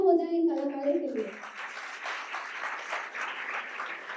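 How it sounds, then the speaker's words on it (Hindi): Warm applause from an audience after a stage play, a dense, steady round of clapping that follows a brief spoken announcement at the start and continues to the end. "जोरदार तालियां हो जाए इन कलाकारों के लिए।"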